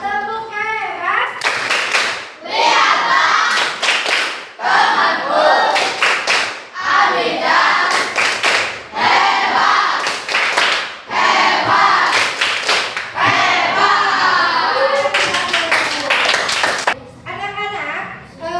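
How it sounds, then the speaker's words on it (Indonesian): Schoolchildren in a sixth-grade classroom clap together in a rhythmic patterned cheer, with sharp bursts of claps in repeated groups. Short pauses fall between the groups, and children's voices chant along with the clapping. "Siap ya? Tepuk hebat."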